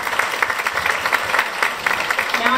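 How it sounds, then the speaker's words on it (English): An audience at a university teach-in session claps in a dense, even patter that stays steady for a few seconds. "Let's give her a round of applause"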